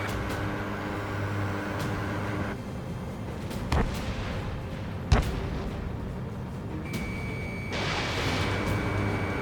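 Missile launches from a fighter jet in Ace Combat 7: Skies Unknown, two sharp booming releases over a steady engine roar, followed by a rising whine.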